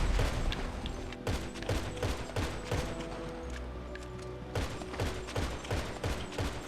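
Rapid bursts of gunfire from a PS4 video game, 2021 edition, with repeated sharp cracks in irregular volleys and short pauses between them. The shots sound close and loud throughout.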